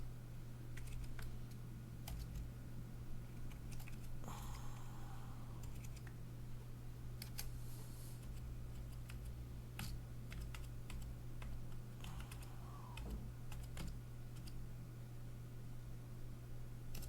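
Quiet keystrokes tap on a computer keyboard in irregular bursts, soft clicks scattered over a steady low electrical hum, with no voices.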